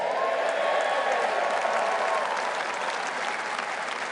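A crowd at a Reform UK press conference in Birmingham gives a round of applause: dense, sustained clapping that holds steady and then eases slightly toward the end.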